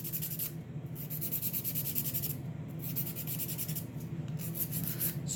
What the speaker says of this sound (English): So good on y'all for hand filing.